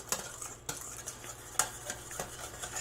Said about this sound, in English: We're just mixing half a cup of the coconut cream and a teaspoon of the arrowroot.